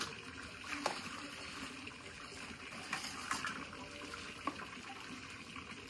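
Water from a supply line begins running, a faint steady trickle with a few soft splashes and drips at a distance.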